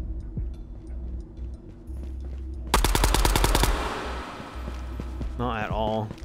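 MAT-49 submachine gun fire in the VR shooter Ghosts of Tabor, a rapid close burst of about a dozen sharp shots after a stretch of low background rumble, with a voice talking over the gameplay near the end.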